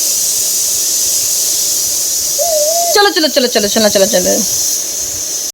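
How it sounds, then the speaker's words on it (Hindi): A pressure cooker whistle at home cuts in as a loud, wavering, fluttering shriek for about a second and a half over a steady background hiss, just after a short spoken word. "अब देखना कुकर की सीटी बजेगी"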